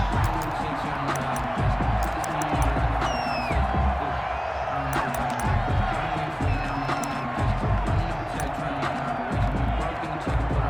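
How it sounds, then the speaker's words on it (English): Stadium crowd cheering before a Pittsburgh Steelers vs Cincinnati Bengals NFL game, a loud continuous roar with whoops and whistles rising over it, and a commentator talking through it. "This crowd is ready"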